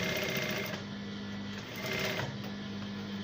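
Sewing machine stitching short pants with white thread, a continuous fast mechanical hum with a brief slowdown midway, close and steady, no speech.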